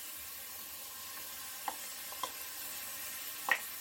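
Parsnip and cabbage cooking in a frying pan give off a faint, steady sizzle, broken by a few light scrapes or taps of a utensil.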